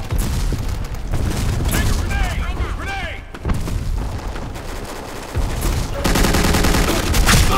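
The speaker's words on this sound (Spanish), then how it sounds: "¡Madre mía, qué tiroteo!" Heavy gunfire and booms in the Black Squad shooter game, dense and loud, mixed with game music and effects, with a voice shouting over the fire at times.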